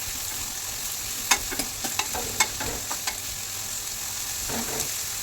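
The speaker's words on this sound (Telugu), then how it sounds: "జీలకర్ర ఉల్లిపాయలు పచ్చిమిరపకాయలు వేసేసుకొని కొంచెం వేయించుకోవాలండి మంచిగా" Cumin seeds, onions and green chillies fry in oil for an ivy gourd curry, a steady sizzle under repeated scraping taps of a spoon stirring the pan up close, without any voices.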